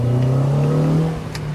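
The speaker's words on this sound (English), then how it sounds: "You do get that nice VTEC changeover," Honda Civic Si EM1 engine with an aftermarket exhaust revving hard through its VTEC changeover, a loud rising engine tone heard from inside the car that holds steady and then eases off near the end.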